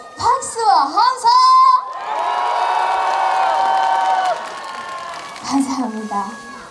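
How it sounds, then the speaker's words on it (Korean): A voice calls out briefly, then a trot concert crowd bursts into loud cheering, whooping and applause. The roar holds for a few seconds before fading as a voice returns. "자, 한 번 더 크게 박수와 함성!"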